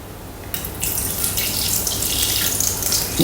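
Water pours steadily into a Thermomix mixing bowl for bread dough, a continuous splashing rush that starts after a brief quiet moment and runs to the end.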